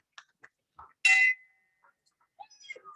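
A meeting bell at a Rotary Club of Savannah luncheon is struck once at adjournment, giving a bright, loud ringing clang that decays over about half a second, with a few faint knocks and small sounds around it.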